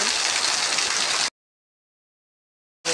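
Heavy rain drums loudly on a tin roof in a dense steady hiss for just over a second, then cuts to complete silence before briefly returning at the end.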